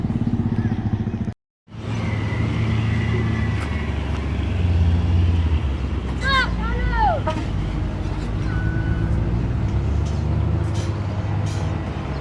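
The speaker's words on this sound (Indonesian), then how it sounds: "cukup banyak sekali truk menuju ke kawasan ini ya" Trucks heading to a toll road landfill site rumble steadily nearby with a low engine drone, a brief squeal and hiss, under a voice talking throughout.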